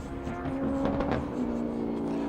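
A Mark GT race car with a Ford Coyote-style V8 engine roars steadily at Sydney Motorsport Park, a loud, sustained engine note with gear-laden harmonics holding throughout.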